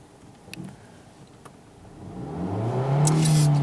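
A car's engine revs up hard during a parking practice drive at a driving school in Wrocław, its roar rising from quiet to a loud, sustained whine near the end.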